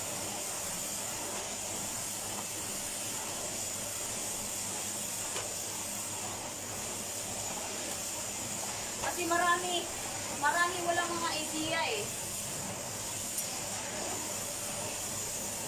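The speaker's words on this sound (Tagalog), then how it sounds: "Ganyan ang paglilinis gamit ang vacuum, guys." A vacuum cleaner runs continuously during a home cleaning demonstration, a steady, even hiss and whir throughout, with someone talking over it midway.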